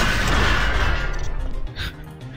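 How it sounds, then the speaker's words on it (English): A loud, rumbling explosion in Deus Ex, like dynamite going off: a dense burst of noise that holds for over a second, then drops off and fades into a softer crackling tail. "sounds like it's dynamite going off"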